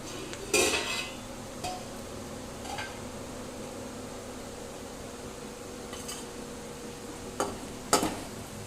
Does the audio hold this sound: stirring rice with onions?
yes